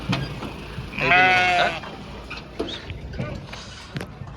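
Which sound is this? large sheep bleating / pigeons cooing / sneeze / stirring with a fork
large sheep bleating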